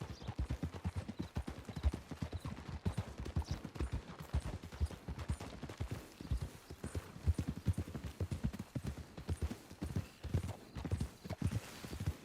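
Hooves clip-clop at a steady rhythmic trot in Red Dead Redemption 2, loud and close, continuing without a break with no voices over them.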